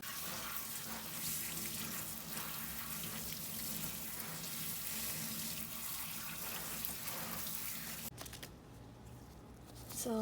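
Tap water runs steadily onto fabric being wetted for dyeing, a continuous splashing rush that cuts off sharply near the end, leaving faint handling noises.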